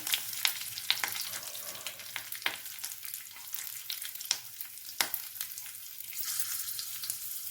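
Mustard seeds, urad dal and green chillies fry in hot oil for poricha rasam, making a steady close sizzle with quick, scattered pops and crackles throughout.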